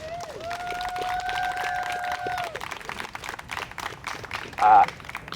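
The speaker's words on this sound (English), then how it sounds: "Let's give them a round of applause." An outdoor audience at a tree house grand opening claps for the parks and maintenance staff in a brief, moderate burst of applause, with whistle-like tones early on and a loud thump near the end.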